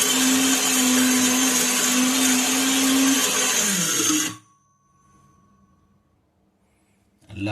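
An electric mixer grinder grinds dry biryani masala spices in a loud, steady whirring burst for about four seconds, pitch dropping as it cuts off, followed by near silence and a faint closing knock.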